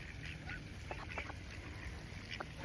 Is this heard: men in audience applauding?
no